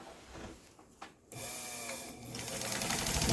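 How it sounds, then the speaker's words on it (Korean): A Brother B200 electric sewing machine, fitted with a motor, runs steadily when its foot pedal is pressed after a few quieter clicks; the mechanical whir is close and grows louder toward the end. "이 페달을 눌렀을 때 재봉틀이 간다."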